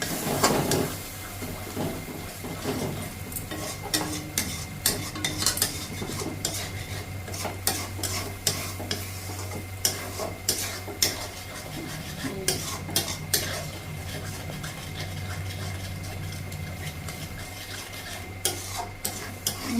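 A spoon stirs butter mushroom curry with whisked curd in a metal pan, cooked without onion or garlic. The repeated scraping and clinking of the spoon continue steadily over a faint, constant sizzle.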